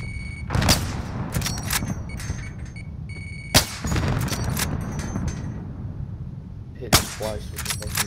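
Grenade explosions in Call of Duty: Modern Warfare: three sharp, loud blasts spaced a few seconds apart, each rising out of steady battle noise and rumble.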